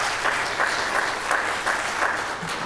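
Audience applause for band and guard boosters at a middle school band spring concert, brisk clapping from a modest crowd with a faintly pulsing rhythm that continues throughout.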